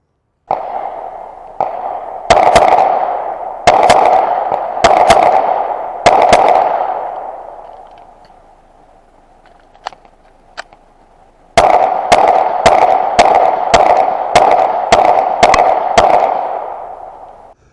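Ruger EC9s pistol shots ring out at an outdoor range, sharp, loud reports in irregular groups, then a fast string of evenly spaced shots, each followed by a brief ringing tail.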